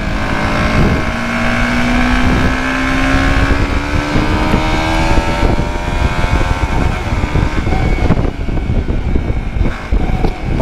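A motorbike ridden in third gear without full throttle, a loud close engine drone with a slowly rising pitch, mixed with heavy wind buffeting and no talk.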